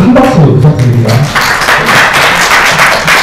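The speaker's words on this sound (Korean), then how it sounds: "다시 한번 큰 박수 부탁드립니다" An audience at a regional social economy forum applauds loudly and continuously nearby, a dense wash of clapping that starts right after a voice is heard and carries on with no break.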